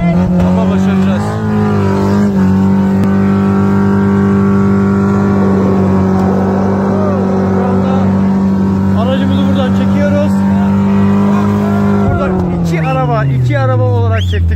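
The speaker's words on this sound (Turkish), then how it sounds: "Defender'ımızla Suzuki'yi çektik." A Land Rover Defender engine labours off-road while towing a Suzuki, a loud steady drone that holds its pitch and then drops near the end. Faint voices and outdoor noise sit underneath.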